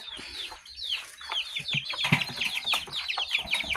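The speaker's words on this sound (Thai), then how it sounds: "เดี๋ยวเราไปดูไก่กันเลยนะครับ" Chickens clucking and chattering nearby, with overlapping calls in quick succession and no talking.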